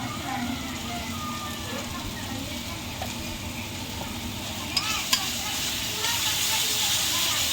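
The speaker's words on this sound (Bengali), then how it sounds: "মশলাটা পাঁচ মিনিট মতন কষিয়ে নেব বন্ধুরা" Masala with salt and turmeric frying in a pan, a steady close sizzle with light stirring scrapes and a couple of sharp clinks.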